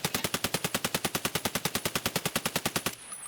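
An RD-704 rifle fires in a video game, with one long full-auto burst of rapid, evenly spaced shots for about three seconds before stopping.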